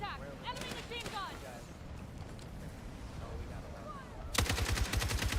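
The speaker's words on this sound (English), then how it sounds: "Contact! Enemy machine gun!" An enemy machine gun fires in a video game, first as distant rattling amid game noise and voice chatter, then a loud, rapid close burst in the final second.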